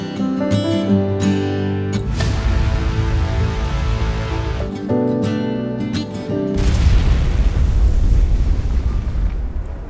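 A SpaceX rocket blows apart in a heavy, roaring explosion, a deep rumbling blast that cuts out briefly and then swells into a louder, sustained thunderous roar.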